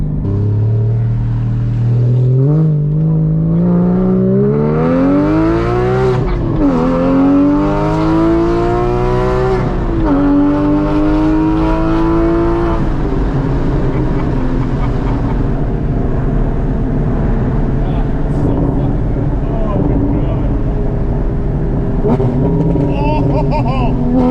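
A Porsche Cayman GT4 fitted with a Fabspeed exhaust revs up through rising engine tones, then downshifts with sharp blips and a deep rumble on a fast road, loud and close inside the car, with people talking over it.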